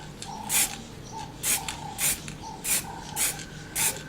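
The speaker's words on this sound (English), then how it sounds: "I'm spraying it in bursts" A spray bottle mists water onto a landscape painting in short bursts, six quick hissing puffs spaced roughly half a second to a second apart, close and fairly quiet, with no talk.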